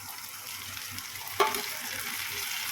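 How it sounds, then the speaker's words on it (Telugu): Ground raw mango paste dropped into a pan of frying onions, giving a steady close sizzle with a brief louder burst as it lands, then continued even frying. "ఇప్పుడు మిక్సీ పట్టేసిన మామిడికాయ అనమాట వేసేస్తున్నాను"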